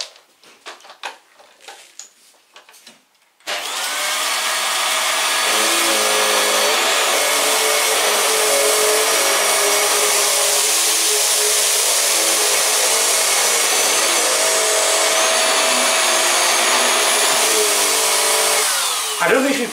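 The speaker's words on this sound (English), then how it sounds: "Now for this, I'm going to turn the brush bar on." A Vax Mach Air Revive UCA2GEV1 upright vacuum cleaner switches on with its brush bar running on a low pile rug, a loud steady whirring roar that holds evenly for about sixteen seconds after a few handling knocks.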